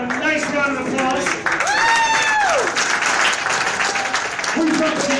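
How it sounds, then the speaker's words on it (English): Audience applause for Steve, a man from Aurora, Colorado, at a benefit for Aurora shooting victims, loud and sustained crowd clapping mixed with cheers and voices throughout. "Give him a nice round of applause."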